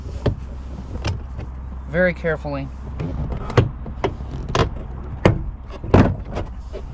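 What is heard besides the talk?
door panel being pulled off a Honda Accord door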